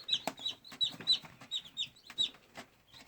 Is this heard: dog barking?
no